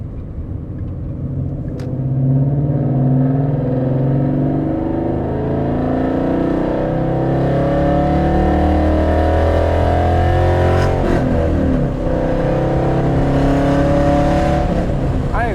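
A Ford Mustang GT engine revs loudly up to about 5,000 RPM and settles back, with a deep rumbling exhaust, close by and sustained.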